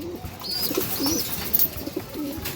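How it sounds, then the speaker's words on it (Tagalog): Racing pigeons coo in soft, low bursts at a pigeon loft, several calls overlapping close by with faint chirps mixed in and no talk. "So yun mga kalapatids, painumin na natin sila."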